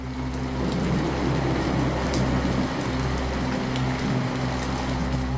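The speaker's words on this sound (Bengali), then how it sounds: "অনবরত মুসলধারে বৃষ্টি গোটা পরিবেশ ঠান্ডা করে দিয়েছে" Heavy, continuous downpour of rain set in a Bengali village ghost-story scene, a dense even hiss under a low steady rumble, with faint drips and patters scattered through it and no talking.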